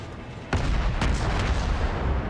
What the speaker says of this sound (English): he's firing his guns one at a time, so there's no real way to angle between shots.